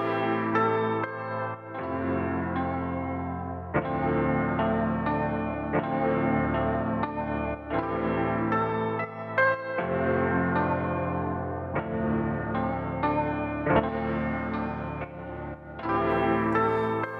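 Piano chords played with a warbly, lo-fi cassette-like tone, repeating in a slow pattern of sustained phrases with brief pauses between them.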